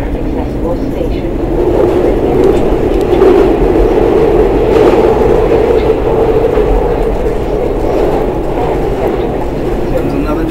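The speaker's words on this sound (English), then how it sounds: "There's another train, Ricky." A Market-Frankford elevated train in Philadelphia rumbles past at close range, a steady loud roar of wheels and rail that swells slightly mid-clip and holds for about ten seconds, with faint voices underneath.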